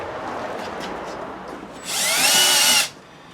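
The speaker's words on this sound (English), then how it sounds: "when you're using a Milwaukee drill" A cordless Milwaukee power drill whirs loudly for about a second, a short high-pitched burst after some quieter handling noise.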